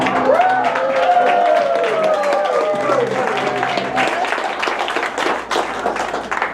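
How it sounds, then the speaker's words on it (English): Audience at a magic show applauds the finale of a napkin trick, with scattered claps rising into sharper, louder clapping in the second half, while a performer talks and music plays beneath. "fling open the napkin and receive your well-deserved applause"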